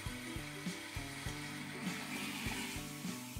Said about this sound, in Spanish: Una vez caliente el aceite, echamos el pollo y lo doramos